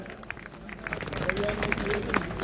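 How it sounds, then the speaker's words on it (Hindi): An audience at a Holi celebration and poetry recital at a resort bursts into clapping that swells over a couple of seconds, a broad patter of many hands under a voice speaking over the crowd. "एक बार जोरदार तालियां हो जाएं।"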